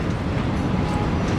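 A train in the video game Lies of P gives a steady low rumble that rolls on without a break, a dense mechanical drone with no distinct clacks and no talk over it.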